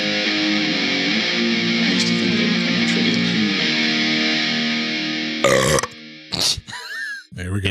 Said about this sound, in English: There we go. Burps in HD.